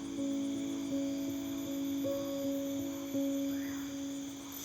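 Crickets and frogs call at night beside a river in Caquetá's jungle, with steady overlapping high trills and a sustained lower pulsing chorus, continuous and moderately distant, no voices.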